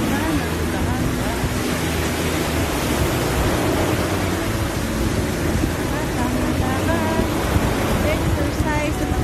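Steady ocean surf washes continuously on the shore at Alagadi Turtle Beach, a broad rushing roar with some wind buffeting throughout.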